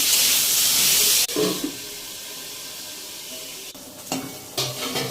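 Potato pieces with salt and turmeric fry and get stirred in a pan. A loud, hissing sizzle opens, then drops to a quieter crackle broken by a few sharp scraping stirs near the end.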